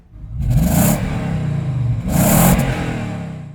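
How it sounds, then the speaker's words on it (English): A misfiring Toyota Land Cruiser engine, with its warning light on, revs up twice, a rough, uneven roar rising and holding, heard close with no talking. "got an engine warning light. Sounds a bit misfiery."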